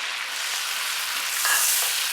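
Whisked yogurt goes into chicken frying with masala in a karahi, giving a loud continuous sizzling hiss that swells briefly partway through.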